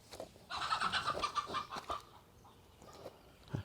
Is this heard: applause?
no